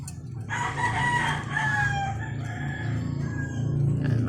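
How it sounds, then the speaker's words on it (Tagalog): A featherless gamecock, a fighting rooster, crows and clucks nearby, loud and clear, with a strained crow followed by softer clucking and low background rumble. "panabong ba yan mukhang panabong walang balahibo ulit"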